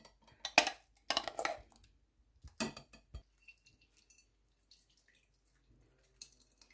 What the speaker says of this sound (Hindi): अब मैं प्याज का पानी छन्नी में डाल के निचोड़ लूँगी।